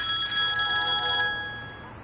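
An electronic telephone ringtone trills steadily and loudly during a call to Zainab, then fades slightly toward the end, with no voices.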